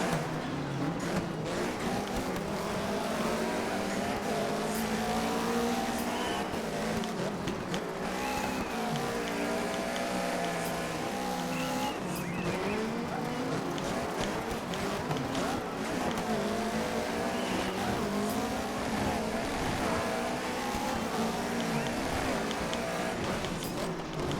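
Rally car engine in the racing game DiRT 3 on Xbox, loud continuous revving with rising and falling gear changes and occasional tire noise, sustained throughout without pause.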